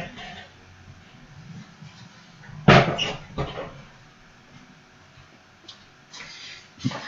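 A house dog barks near a door, one loud sharp bark standing out from a quiet room, followed by a softer bark and faint scattered noises, with a voice briefly heard.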